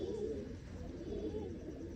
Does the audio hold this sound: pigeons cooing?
yes